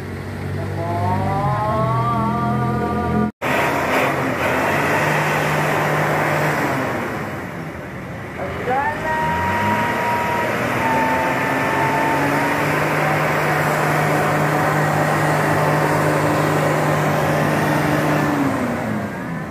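Rosalia Indah bus diesel engine under inspection by crew, a loud steady roar with rising and falling revs, pitch sweeping up and down through the run.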